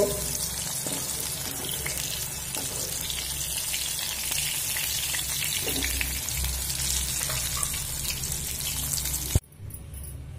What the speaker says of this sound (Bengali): এমনভাবে সিম ভাজতে হবে যে পুরোটাই সিদ্ধ হয়ে যায়।